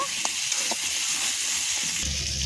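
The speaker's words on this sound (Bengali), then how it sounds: "ধুয়ে রাখা আলুটা এবারে তরকারিতে দিয়ে দিচ্ছি, এবারে একটু নেড়ে নেব" Potato pieces stirred into an onion and tomato curry frying in a pan, a continuous bright sizzle with a few soft scraping knocks of the spoon, steady and close throughout.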